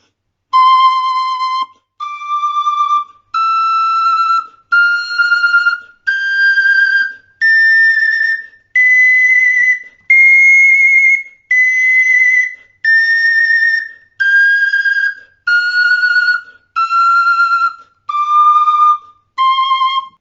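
A small Sicilian friscalettu flute plays a slow scale of separate sustained notes starting from C, rising step by step and then descending back to the starting note, clear and close.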